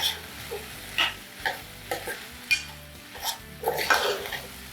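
Dal being stirred in a pot after chili powder and salt go in, with scattered scrapes and clinks of a spoon against the pan, soft and irregular, no voices.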